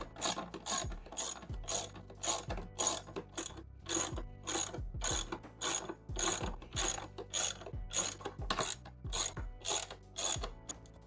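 A ratchet tightening the plastic air filter housing on a Fiat 500 Abarth, rapid repeated clicking bursts in a steady back-and-forth rhythm, loud and close with no talking.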